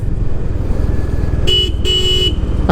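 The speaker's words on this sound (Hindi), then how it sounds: "अरे वाह, ये एक्टिवा वाला हॉर्न डेफिनेटली नहीं है." Two short honks of a Honda Highness CB350 motorcycle horn, the second slightly longer, sound over a loud, steady engine rumble from the moving bike.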